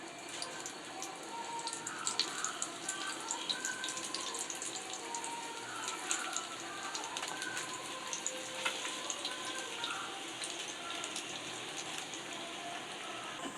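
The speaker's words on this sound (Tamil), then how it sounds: "எண்ணெய் காஞ்சிச்சு. நம்ம ஒவ்வொரு உருண்டையாக இதில் சேர்த்துக்கலாம்." Vegetable kola urundai balls frying in hot oil, a steady dense crackling sizzle with bursts of bubbling throughout, close and fairly soft with no talk.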